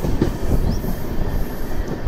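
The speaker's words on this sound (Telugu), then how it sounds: "సో మన ట్రైన్ వచ్చేసి రైట్కి అయితే డైవర్షన్ తీసుకుంటుంది" Train rolling along and curving off to the right onto a diverging line, a steady close rumble of wheels on rail with faint clatter and a brief high squeal, continuous throughout with no voices.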